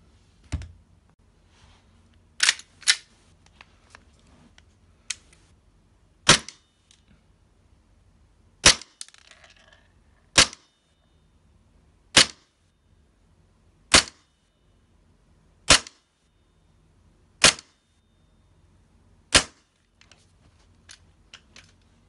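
An Elite Force Glock 17 green gas airsoft pistol firing BBs: about a dozen sharp, isolated cracking shots spaced roughly two seconds apart, a few in quick doubles, close and loud against near silence.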